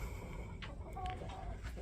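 Chickens in a coop give a few faint, scattered clucks and short calls over a low background rumble.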